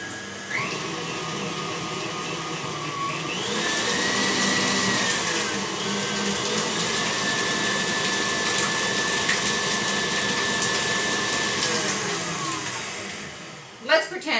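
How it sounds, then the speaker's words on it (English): A blender mixes black bottom cupcake batter in a steady, loud, close motor whir that holds for over ten seconds with slight shifts in pitch, then cuts off with a couple of knocks. "You are going to go ahead and blend that up, or stir that up until it's very smooth"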